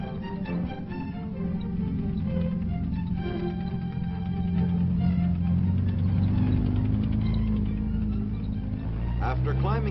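An M-48 Patton tank (T-48) drives a grueling test track with steep slopes and washboard road, its engine and tracks giving a steady heavy rumble under narration on muffled old film sound.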